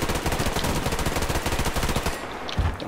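Rapid automatic weapon fire in the video game Survarium rattles in a dense, loud, continuous burst lasting about two seconds, then stops.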